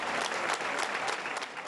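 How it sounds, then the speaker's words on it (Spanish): Sustained applause from a congregation as a funeral mass ends in a Spanish village church, steady dense clapping throughout with no voices on top. "Para ellas y para los 2 hermanos, Alberto y Jorge, ha habido una ovación al finalizar la misa"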